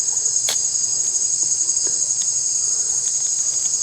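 Steady high-pitched insect-like trilling from a calling adult male drab tree frog in Costa Rican rainforest at night, continuous and loud throughout, with a few faint clicks in the background.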